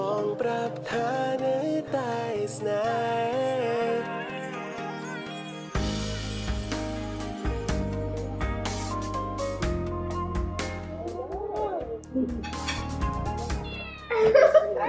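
Cats meow and caterwaul inside a cat cafe in Cambodia, several drawn-out wavering calls rising and falling over a steady background hum, fairly close and clear.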